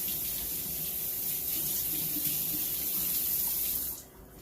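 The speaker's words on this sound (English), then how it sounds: "let me wash my hands here" A kitchen sink faucet runs steadily while hands are washed, a close, even hiss and splash of water that holds for about four seconds before being shut off.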